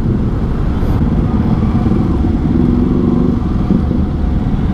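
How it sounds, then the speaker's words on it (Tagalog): A loud, close motorcycle engine booms steadily from behind on the road while riding a Yamaha R15 V3, its low rumble continuous throughout and unbroken by any talk. "Nangangabog yung motor sa likod ko."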